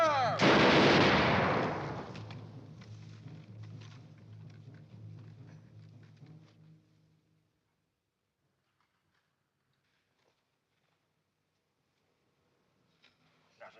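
A loud volley of rifle fire bursts out on command in a 1952 period adventure film, then rolls away into ragged echoes and crackle before falling to near silence, with a faint sound returning at the end.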